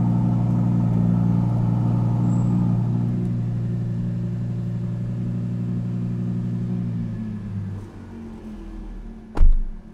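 An Audi car engine runs just after start-up with a loud, steady high idle that drops to a quieter, lower hum after several seconds. A single heavy thump comes near the end, and no one speaks.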